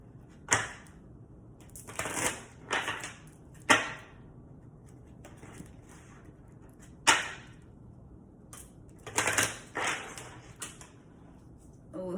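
Oracle cards being shuffled by hand, giving a series of crisp snapping riffles and flicks at irregular intervals, with soft rustling in between, heard up close.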